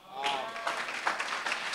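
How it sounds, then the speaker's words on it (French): Church congregation clapping during a French sermon, a short burst of applause rising quickly with voices mixed into the clapping. "Applaudissez."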